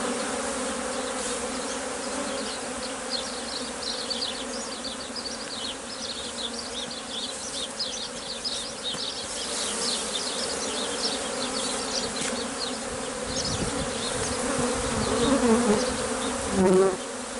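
Many honeybees buzz continuously around a hive during a hive split, a dense hum with individual insects droning close by, growing briefly louder near the end.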